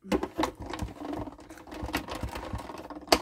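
A die-cutting machine presses paper for a handmade card, giving a busy, uneven run of mechanical clicks and crunching rattles that continues close up for several seconds, with a sharper snap at the end.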